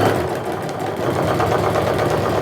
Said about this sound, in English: Now I'm going to stitch down the center line.